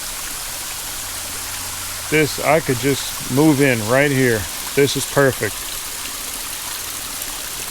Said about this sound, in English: down here you have the waterfall on 2 or 3 sides, depending on where you're standing